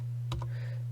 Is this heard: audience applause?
no